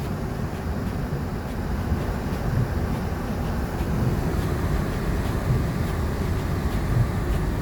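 Blizzard wind roars steadily against a car driving through snow in Chicago, a dense, constant rushing with no talking.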